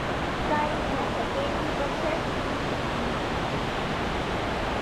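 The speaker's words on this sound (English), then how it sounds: "there's a waterfall over there" Waterfall inside Sam's Town casino in Las Vegas, heard as a steady, even wash of falling water that fills the space without a break, with faint voices in the hall beneath it.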